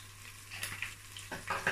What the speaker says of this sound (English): So I fry this for about 1 minute as well.